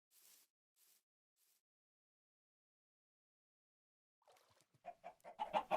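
Three short clucks from a chicken in the video game Minecraft, quiet and spaced apart, then silence before a louder burst of muffled rustling or chomping at the end.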